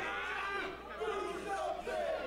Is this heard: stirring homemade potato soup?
no